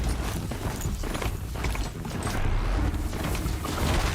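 Mechanical mount's hoofbeats in the video game Horizon Zero Dawn, a rapid clattering gallop with metallic creaks and clicks, loud and continuous with no speech.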